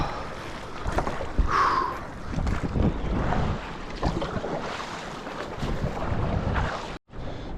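Water swishing and splashing in an irregular rhythm as a paddleboard paddle dips on the open ocean, with wind buffeting and a brief dropout near the end.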